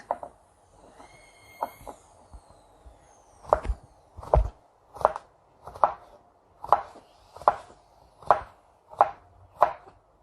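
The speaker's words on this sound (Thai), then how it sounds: "ป้าก็จะหั่นเป็นชิ้น" A knife chops chayote into strips on a cutting board, about ten sharp, evenly spaced thunks at a slow steady rhythm, close and clear, with a few lighter taps and a brief bird-like chirp early on.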